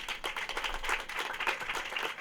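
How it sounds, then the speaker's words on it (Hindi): Congregation at a church convention clapping together in a fast, rhythmic beat, loud and close, a lively steady pulse of many hands. "जोरदार ताली उस खुदा के लिए।"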